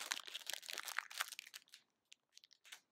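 Plastic bags holding small thrifted dollhouse toys crinkle and rustle close up in rapid bursts, then trail off into a few sparse crackles.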